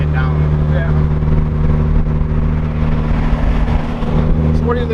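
Mazda Miata drift car engine pulling under acceleration, a loud steady droning engine note close by, with people talking over it.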